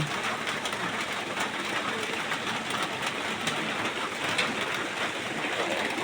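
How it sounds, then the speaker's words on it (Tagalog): Heavy rain pours down in a dense, steady hiss, loud and close, with no pauses or voices. "napakalakas na po ng ulan"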